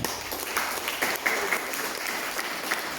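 A church congregation applauds during a Spanish-language sermon, a steady crackle of many hands clapping at moderate volume with a few scattered cheers over the top.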